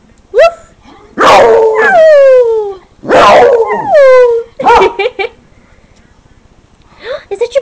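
A beagle howls and yowls close by in several long, loud, wavering bursts, ending in shorter yips and whimpers, with no talking over it.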